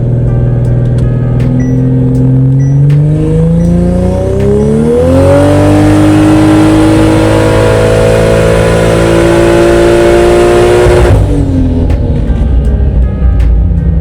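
A tuned car engine with a new intercooler, running at 28 psi boost, revs hard to redline. The pitch climbs steadily to a loud, sustained high note, then drops back to idle.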